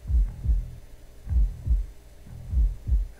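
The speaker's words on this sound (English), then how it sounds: "That's a very loud heartbeat." A loud, deep heartbeat in the Tokyo Twilight Ghost Hunters video game throbs in paired thumps, repeating in a slow, steady rhythm, alone with no voices.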